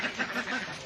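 Ducks on an integrated backyard farm quacking at feeding time, a continuous busy chorus of close, overlapping calls.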